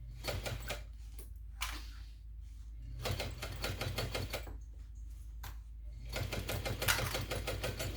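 A sewing machine stitches seams on a canvas messenger bag, running in several bursts of rapid mechanical chatter with brief pauses as the stitching reverses and restarts, close and steady.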